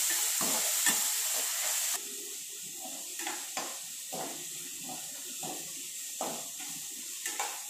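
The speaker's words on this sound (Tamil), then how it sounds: "அப்படியே ஒரு கிண்டி விட்டுடலாம்." Loud steady sizzling of masala with onion, tomato and a little water in a pan for prawn semiya biryani, with repeated scraping stirs every second or so, the hiss easing slightly after the first couple of seconds.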